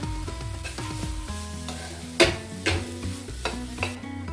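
Egg bhurji with chili powder sizzles steadily in a pan while a spatula stirs it, adding intermittent scraping knocks over the continuous frying hiss.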